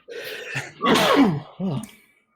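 A single person sneezes up close with a sharp intake and burst, followed by a short throaty after-sound, then quiet.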